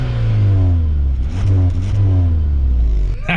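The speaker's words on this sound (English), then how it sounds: "you also do have the dual exhaust that sounds oh so sweet" Deep, throaty dual exhaust of a 2021 Hyundai Sonata N Line revving loudly and close, the engine note rising and falling in a couple of swells before easing off.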